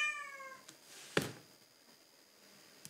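A cat meows once indoors at the very start, a clear, fairly quiet harmonic cry, followed by a single sharp knock and a quiet room.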